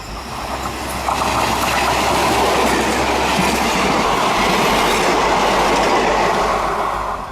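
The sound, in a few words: Amritsar-Jalandhar DMU express train passing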